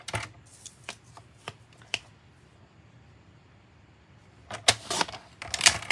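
A cutter trims a piece to length, producing sparse, crisp ticks and scrapes, then a louder cluster of rapid cutting strokes near the end, all close and without talking.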